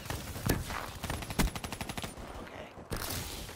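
Kuda assault rifle fire in a video game: rapid bursts of automatic gunshots in a tight rhythm, with single sharp shots before and after, followed by a brief lull and noisy in-game ambience.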